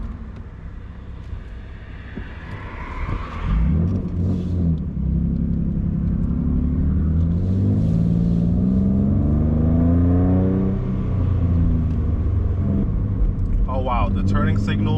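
A car approaches and drives past, its engine note rising and swelling into a loud, close rumble for several seconds before easing off, heard from inside another vehicle with faint talk.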